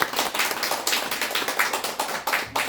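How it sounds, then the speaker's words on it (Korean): Applause from a seminar audience at a Buddhist study gathering on the Diamond Sutra: steady, fairly dense clapping from a modest crowd, crisp and close, running through without a pause and with no talk. "박수 한번 주세요."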